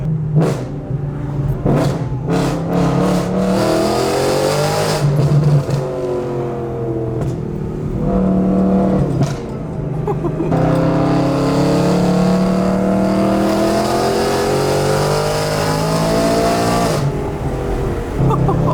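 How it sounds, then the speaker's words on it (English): A loud BMW E36 M3 engine revs hard and repeatedly, the pitch sweeping up and down as it climbs, with a few sharp bursts early on. "I forgot how loud this car is"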